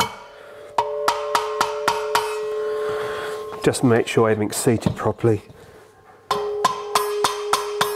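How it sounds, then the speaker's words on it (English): A hammer taps the valves back into a classic motorcycle cylinder head during a low-budget restoration, giving sharp, ringing metallic taps in quick, even bursts. Someone speaks briefly between the bursts. "I normally just tap them with a hammer."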